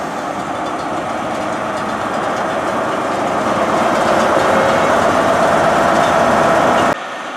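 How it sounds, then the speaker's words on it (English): Great Western Railway train departing Exeter St David's station, a loud, close rumble of engine and rolling stock that builds steadily, then drops away abruptly near the end. "departing now is the 1056 Great Western Railway service to London Paddington via Bristol Temple Meads"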